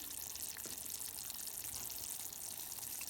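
Water poured into a pot for cooking brown rice, a soft steady hiss of flowing liquid close by that lasts throughout without talk.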